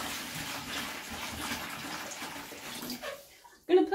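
Salt water culture medium, about two litres, pouring steadily into a container with a continuous splashing gush that stops near the end, followed by a brief clunk.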